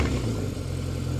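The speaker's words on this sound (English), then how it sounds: "Real nice sound from the stock exhaust." A 1978 Honda CB750F motorcycle with a Tracy cafe racer body kit idles through its stock exhaust, giving a close, steady low burble with no voices.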